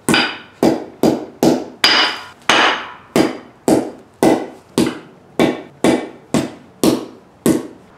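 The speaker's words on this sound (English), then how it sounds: "Let's smash the other side with the hammer." Repeated heavy hammer blows, about a dozen sharp impacts in a steady rhythm, cracking and smashing a hard plastic clone game console up close with no talking.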